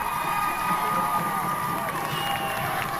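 Football crowd at a Lake View Chiefs vs. Lubbock Westerners high school game cheering and shouting steadily throughout, a dense roar with whoops and children's voices mixed in, no clear talk over it.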